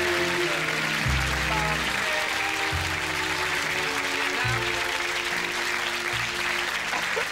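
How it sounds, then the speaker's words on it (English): A TV chat-show studio audience claps in steady, dense applause throughout, with a low rhythmic musical beat underneath. "It was like cabaret applause."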